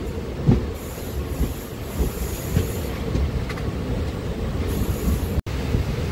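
A DEMU local train rumbles along on the Malkajgiri to Siddipet line, heard from inside with steady low rolling noise, rhythmic wheel clicks over rail joints and faint wheel squeal, no talk.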